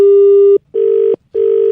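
Telephone tone on an outgoing call: three loud, steady electronic beeps, each about half a second long, with short silent gaps between them.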